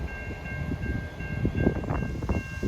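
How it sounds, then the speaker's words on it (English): Long intermodal freight train hauling steamship company containers rumbles past on the CN Kingston Sub in Ontario, with steady low rolling noise and rhythmic wheel clatter, fairly loud and close, no voices. "long intermodal train loaded with steamship company containers"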